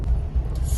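Road traffic is heard from inside a vehicle as a brief, steady low rumble of engines and road noise, close and continuous.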